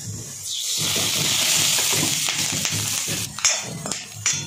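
Roasted green chillies sizzle in a pan as oil is added for a rustic village-style pithla, a steady frying hiss with soft stirring taps and clinks close by, no talking.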